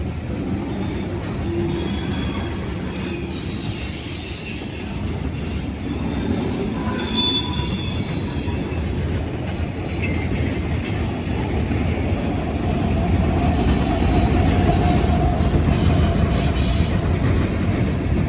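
A freight train rolls past continuously in Marion, Ohio, with loud metallic wheel squeal high above a steady low rumble of cars for the whole stretch.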